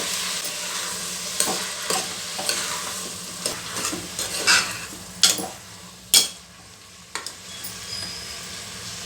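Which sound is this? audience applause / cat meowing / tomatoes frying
tomatoes frying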